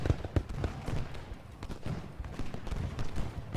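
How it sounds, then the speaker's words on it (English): Cannon fire from Civil War artillery at Gettysburg in Ultimate General: Gettysburg, a rapid string of booming canister blasts and crackling shots layered into a continuous dense barrage with no pause. "They were able to shoot a few canister shots to the ranks."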